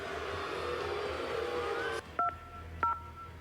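Two short telephone keypad tones beep about half a second apart after a few seconds of noisy background, as a phone number is dialed.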